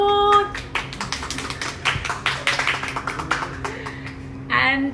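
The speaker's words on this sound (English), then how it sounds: "Just give him a big round of applause" Applause breaks out for a restaurant owner being introduced at a UK event, a dense patter of many hands clapping at close range that fills the clip, with a voice briefly over it near the end.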